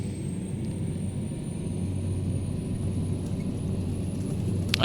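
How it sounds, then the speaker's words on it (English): Twin turboprop engines of a Carenado SF 340 roar steadily at full throttle in the Prepar3D flight simulator, a constant droning rumble with a thin high whine above it, no voices. "I'm bringing the throttle levers into the fully forward position"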